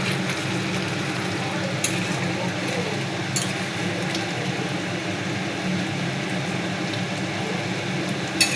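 A pot of meat curry simmers with a little hot water added, giving a steady bubbling, sizzling hiss with low stirring rumble throughout, close and even, with a few faint clinks and no voices.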